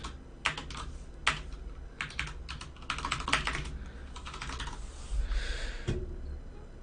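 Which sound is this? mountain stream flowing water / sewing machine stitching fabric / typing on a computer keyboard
typing on a computer keyboard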